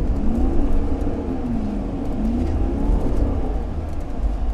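A 2020 Ram Power Wagon's engine drones steadily while driving, a loud continuous rumble with road noise and a slight rising whir throughout, no speech.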